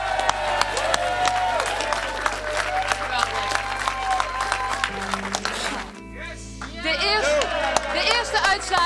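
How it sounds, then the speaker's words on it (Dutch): Applause and cheering at a PVV political rally for the party leader, with a loud crowd clapping and shouting, music and voices mixed in, and a shift in the noise partway through. "geef haar nog een keer een groot applaus"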